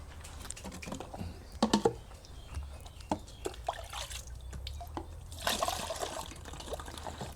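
Water is poured over a tap tao mushroom spawn culture, giving a soft trickle and splash among scattered clicks and handling noises, with a louder wet burst near the end; nobody speaks.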